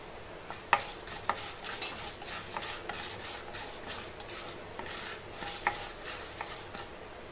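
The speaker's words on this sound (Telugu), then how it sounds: "దీన్ని కూడా కలుపుకొని రోస్ట్ చేసుకోవాలండి" Coriander seeds and spices are dry roasted in a pan for a drumstick-leaf spice powder, with a continuous rustling stir and scrape, a few sharper clicks of the spatula, and no talking.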